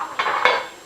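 Dishes and silverware clatter as a dishwasher is unloaded, two quick clinking bursts close by with no talk.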